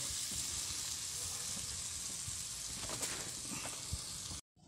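Sauce for tilapia simmering and thickening in a pan, a steady, fairly quiet sizzling hiss with small bubbling pops and a few stirring clinks, cutting off abruptly at the end, with no talk.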